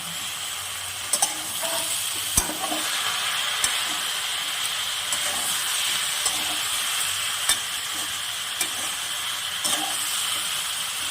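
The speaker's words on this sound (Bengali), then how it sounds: "এখানে আমি মশলাটাকে ভালো করে কষিয়ে নেব।" Spice paste with chilli powder and salt fries for a prawn-and-potato curry, a steady close sizzle with scattered sharp ticks and spatters and a few spoon scrapes, no one talking.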